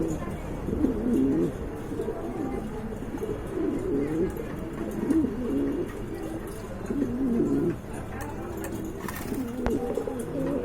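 Pet pigeons for sale coo steadily in low, rolling phrases through the whole stretch, with a few chirps over them and a busy bird-market hum behind.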